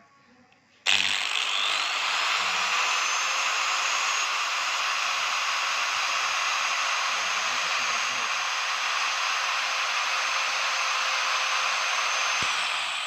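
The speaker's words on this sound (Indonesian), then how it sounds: "kita nyalakan gerindanya kayak tadi" A loud, steady high-pitched motor whine starts abruptly after a moment of quiet and runs continuously, like a power tool spinning at full speed.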